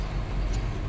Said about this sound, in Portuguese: olha o movimento dessa rodovia